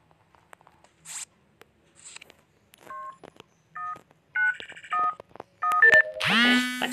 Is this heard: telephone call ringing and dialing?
yes